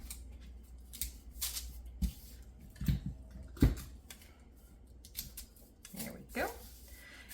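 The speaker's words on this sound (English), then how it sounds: "So first we'll tape this guy down here." A sewing pattern piece is taped down on a work surface, with crinkling paper, tape handling and a few sharp taps and thumps at irregular moments.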